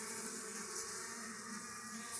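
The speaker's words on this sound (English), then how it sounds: "looks like there's a whole lot of bees in this swarm too" A dense, steady buzzing of a honeybee swarm, even and unbroken, close by and fairly quiet.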